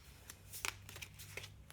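A deck of Scary Stories tarot cards being shuffled, quiet riffling and soft card slaps close to the microphone with a low hum underneath.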